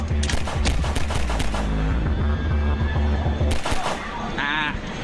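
Handgun shots ring out in the arcade game House of the Dead as zombies are shot, a quick run of loud repeated blasts, then a pause and another shot amid game sounds and music, with a voice speaking over them.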